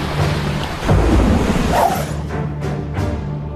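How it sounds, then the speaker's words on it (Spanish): A typhoon lashes the Chinese coast near Shanghai, with a heavy wash of rain and wind, deep rolling thunder rumbling through the middle, and a loud, dense roar throughout. "Durante 24 horas la tormenta embistió la costa china."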